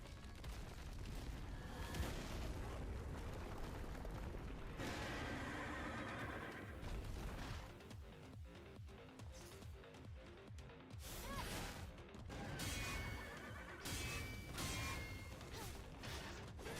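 A horse whinnies inside a video game, rising over a dense, loud mix of game noise with crashes, mechanical clatter and hoof-like clopping running throughout.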